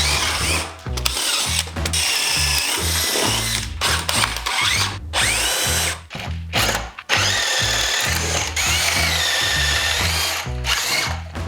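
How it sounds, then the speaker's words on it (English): Power drill boring holes through wooden wall studs for electrical wiring in a 100-year-old house, loud sustained whirring bursts with brief pauses between holes, repeated across the whole stretch. "Now all our holes are drilled"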